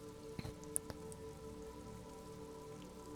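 Rain drips off Eternite-covered roofs along an urban coastline in the Disco Elysium video game, a faint, steady patter over a low ambient hum, with a few louder single drops near the start.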